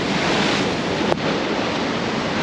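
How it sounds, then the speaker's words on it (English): Wild ocean surf pounds a rocky Cape to Cape coastline, a continuous loud roar of crashing waves with a wind-buffeted rumble on the microphone and one brief sharp splash near the middle. "it is some wild ocean today"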